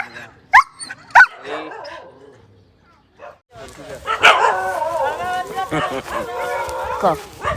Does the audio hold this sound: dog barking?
yes